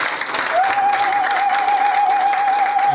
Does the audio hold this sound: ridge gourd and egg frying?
no